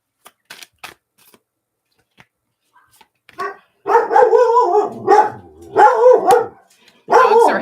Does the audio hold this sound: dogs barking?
yes